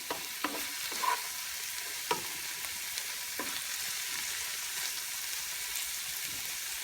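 A tindora and potato vegetable dish sizzles steadily in a pan while a spoon stirs it, giving a few soft scraping knocks over the continuous frying hiss.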